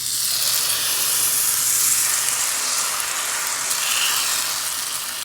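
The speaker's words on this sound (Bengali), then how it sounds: "এবার এর মধ্যে দিয়ে দেব যে ব্যাটারটা আমি তৈরি করেছিলাম সেটা" Pancake batter poured into a hot buttered iron pan gives a loud, steady hiss and sizzle that holds evenly throughout, with no voices over it.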